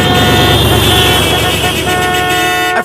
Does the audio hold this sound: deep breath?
no